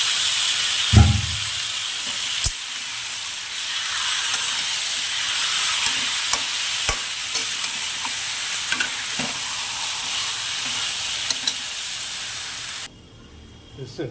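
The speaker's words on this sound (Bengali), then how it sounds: "কচি কচু বেশি তেল দিয়ে ভাজতে হয়" Tender taro frying in plenty of spiced oil in a pan, a constant loud sizzle and hiss with occasional scraping stirs and clinks, ending abruptly near the close.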